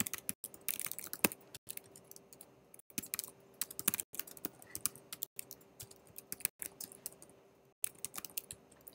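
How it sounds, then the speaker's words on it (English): Computer keyboard typing during a programming session, with quick irregular bursts of keystrokes separated by short pauses, close and fairly quiet, with no talking. "And I'll type in my comments."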